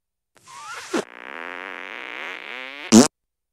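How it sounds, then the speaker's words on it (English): A cartoonish fart attack in South Park: The Stick of Truth: a long, loud, buzzy blast with a sharp onset, followed a moment later by a short, punchy burst, with no talk over it. "Try and fart on me."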